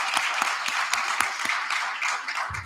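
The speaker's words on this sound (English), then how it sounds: "I would like all of you all to give a round of applause to all the people over here." Audience applause for the SciPec team at a closing ceremony, a steady wash of many hands clapping at moderate distance, continuous through the whole stretch.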